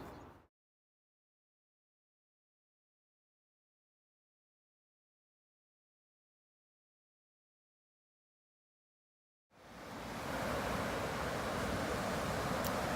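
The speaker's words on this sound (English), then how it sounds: "You can hear the river just roaring in the background." A flooded river roars near a dam, a loud, continuous rushing wash that swells in after a long stretch of silence and then stays steady, with some wind buffeting the microphone.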